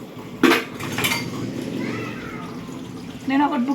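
Dishes, pots and pans being washed by hand in a home kitchen, with sharp clanks of metal and ceramic and a running-water wash in between, close up, while people talk over it.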